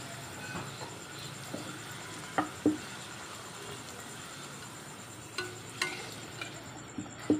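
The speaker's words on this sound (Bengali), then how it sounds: "আমি এই যে গরম গরম ফুলকো ফুলকো লুচি ভাজছি" Luchi puffing up as they fry in hot oil: a quiet, continuous sizzle with scattered small pops and crackles, heard close with no talking.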